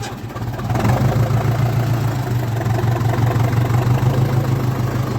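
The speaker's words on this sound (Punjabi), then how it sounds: "ਆ ਜੀ ਆਪਣਾ ਟਰੈਕਟਰ ਆ" A 4600 tractor engine idles close and loud after a brief rise at the start, holding a steady low, throbbing drone to the end with no voices.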